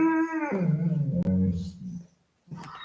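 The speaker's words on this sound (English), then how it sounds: "And now my dog wants to play." A playful dog whining and howling up close, a long tonal whimper sliding down into low growly vocalizing, then a brief pause and a short yip.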